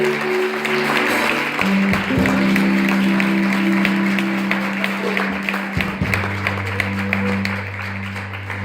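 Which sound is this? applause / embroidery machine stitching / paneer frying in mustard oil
applause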